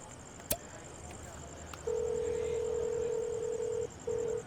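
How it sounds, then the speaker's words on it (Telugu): A telephone in a film scene gives a click and then a long, steady electronic tone that breaks briefly and resumes, heard clearly against quiet room ambience. "చెయ్యి, ఫోన్ చేయి"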